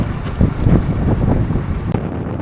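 Strong wind roars over a 46-year-old sailboat at sea off Frioul, a loud, continuous low buffeting with surging gusts, with no voices, until the noise abruptly drops near the end.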